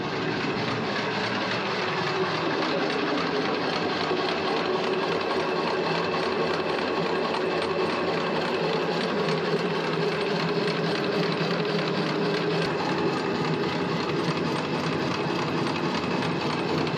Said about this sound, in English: this is a working mill that they just keep it working just for historical reasons. And they are grinding now wheat.